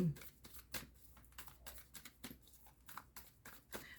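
Playing cards slap and patter down in a rapid scatter of light clicks, with a person talking over them.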